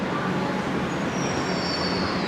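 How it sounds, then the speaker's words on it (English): Metro train in a clean subway station, a continuous rumbling roll of carriages with a high wheel squeal rising in the latter half, steady and fairly close, no talk. "And I miss my train."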